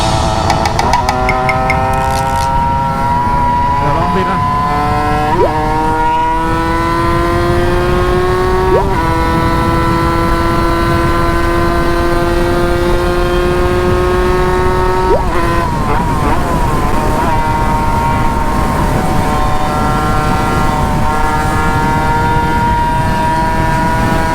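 A Honda Nova motorcycle engine, newly rebuilt and being run in, pulls loud and close in fourth gear, its whine climbing steadily with each rise in speed and dropping briefly at a few shifts or throttle changes.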